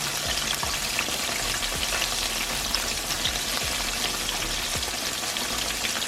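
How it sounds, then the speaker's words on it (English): Pork chops coated in mustard deep fry in hot grease with a dense, steady sizzle and crackle of popping oil filling the whole stretch, close and loud, with no talking. "Now this is what you call deep frying some pork chops."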